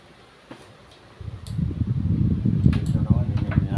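An HP LaserJet 1606dn laser printer powers on just after being plugged in. After a second of near quiet, a steady mechanical whirring rises and continues at close range, with a few small clicks.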